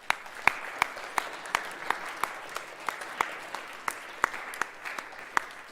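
A school assembly audience applauding steadily, with sharp individual claps standing out in a regular rhythm over a softer bed of clapping.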